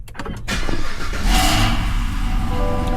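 A car engine fitted with a Corsa cat-back exhaust cranks briefly, catches and settles into a loud, steady idle close by.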